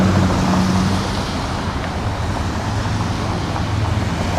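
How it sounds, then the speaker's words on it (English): Road traffic streams past in a loud, steady roar of cars and heavier vehicles, engine rumble and tyre noise blending into one continuous wash with no pauses. "Traffic just keeps coming."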